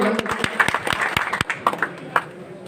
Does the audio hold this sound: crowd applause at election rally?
yes